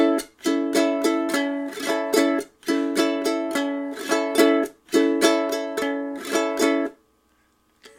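A ukulele plays a fast strumming pattern, close and bright, with quick rhythmic down and up strokes and muted chops, in three repeated phrases followed by a brief pause.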